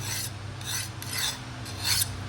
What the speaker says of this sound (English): take a bastard file, make sure it's a sharp bastard file